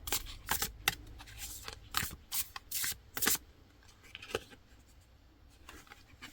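A deck of oracle cards is shuffled close by in quick, papery bursts of riffling and sliding. Short flurries are separated by brief pauses and fade to light rustles toward the end.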